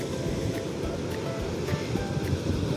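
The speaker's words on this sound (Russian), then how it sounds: "Тут прям море, вот оно." Sea waves wash steadily onto the rocky shore beside an ancient Roman port in Mersin, a continuous near surf rush with some wind noise on the microphone.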